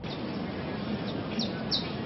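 Birds sing at a bird-watching event on the El Paramo ecological trail on Monserrate hill in Bogota. A few faint, high chirps come through a dense, steady wash of outdoor noise.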